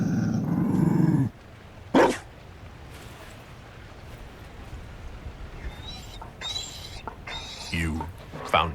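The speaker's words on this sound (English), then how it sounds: "You found a dog? They don't breed Mabari in Olay." A Mabari war dog in Dragon Age: Inquisition gives a loud close growl, then a sharp bark, then scattered yips and shorter barks. Voices talk between the dog sounds.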